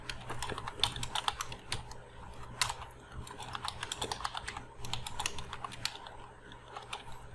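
Steady run of keystrokes on a computer keyboard as text is entered in MS Word, rapid irregular clicks close up over a low constant hum, no voices.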